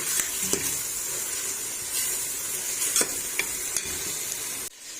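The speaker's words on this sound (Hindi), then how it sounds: "अब अच्छे से हमने तकरीबन इसे 10 मिनट भून लेना है" Daal masala with whole white cumin frying in a pan gives a continuous close sizzle. Stirring scrapes and a few sharp clacks sound over it before it cuts off abruptly near the end.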